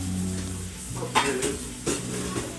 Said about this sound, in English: All right, the rice is boiling now.